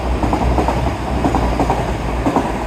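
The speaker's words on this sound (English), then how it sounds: "Train!" A passing train at Teignmouth rumbles loudly and close by, its wheels clattering in a steady rhythm over deep low noise, with no talking.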